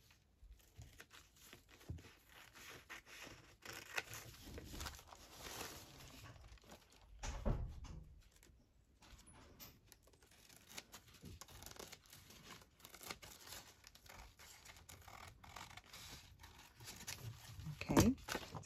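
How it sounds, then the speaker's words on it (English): Scissors snip and slice through paper for ephemera crafting in a steady run of cuts, with crinkling and rustling handling noises close by and a brief louder rustle midway. "I'm going to trim it off with my scissors"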